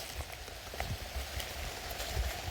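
Steady rain patters on a surface, a continuous hiss with scattered individual drops landing nearby.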